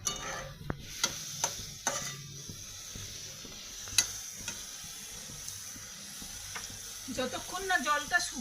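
Chickpea and paneer masala is sautéed and stirred in a pan. A spatula gives sparse scraping taps over a faint, low sizzle, and a brief burst of bubbling sputter rises near the end.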